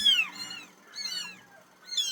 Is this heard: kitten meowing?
yes